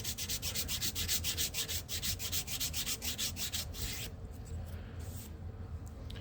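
A Rabid Models edge sander is rubbed back and forth along the edge of a model piece to bevel it. Rapid, even rasping strokes repeat about twenty times up close, then stop, leaving a soft, lower rubbing.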